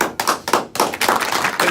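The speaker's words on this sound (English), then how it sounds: "You know we got clapping soundtracks." Recorded applause soundtrack played on a podcast, a dense burst of many hands clapping at close range, steady and continuous with sharp slaps throughout.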